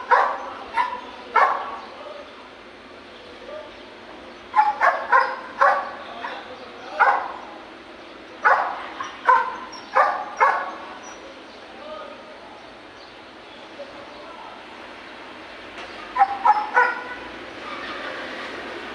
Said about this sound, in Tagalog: Nainitan yung aso.